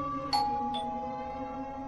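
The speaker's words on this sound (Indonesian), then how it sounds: "tiba-tiba bel berbunyi" A doorbell in a house gives two-tone ding-dong chimes, a bright strike followed by a second softer tone that ring out and decay over a low background hum.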